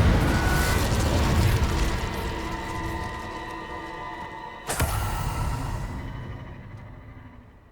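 A fire spell being cast in the Hogwarts Legacy video game on PS5: a loud, dense roaring whoosh of flame that swells, breaks into a sharp burst near the end, and then dies away.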